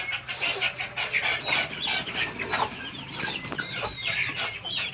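Kadaknath chickens cluck and squawk steadily in a shed, several birds calling over one another at close range, with a low hum underneath throughout.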